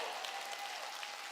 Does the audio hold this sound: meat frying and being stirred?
no